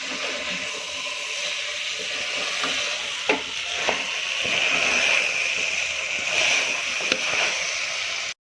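Steady sizzling from a hot pan as rice is stirred with spices, a few soft scraping stirs and clicks, continuous and close, no voices.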